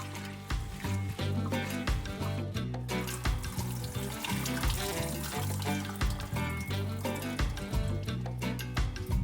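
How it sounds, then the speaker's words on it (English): Running tap water splashes steadily while bathua leaves are washed in a kitchen before cooking, a continuous close, loud rush that covers the whole stretch. "I am washing it thoroughly with water before cooking to get rid of all the dirt from the leaves."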